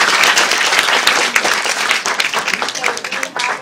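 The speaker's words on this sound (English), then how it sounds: "let's just give Heba a round of applause." A lecture audience applauds Heba Morayef after her talk on human rights workers in Egypt, with dense, loud clapping from a crowd filling the room and no speech over it.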